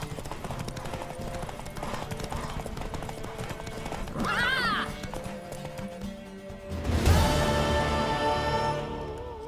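Rapid horse hoofbeats clatter along steadily in the video game The Witcher 3, with a horse neighing midway and a burst of louder action near the end.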